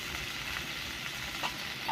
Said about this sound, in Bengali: এবারে আমি নুন আর হলুদটা দিয়ে ভালো করে আর একটু নেড়ে চেড়ে ভেজে নেব